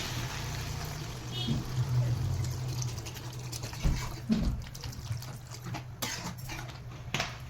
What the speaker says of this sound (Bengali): আমি এবারে জলটা দিয়ে দেবো